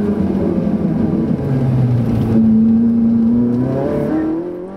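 A Ferrari 458 Italia pulls away on a damp road, its engine note climbing through the revs and shifting between gears, loud and close from inside the car.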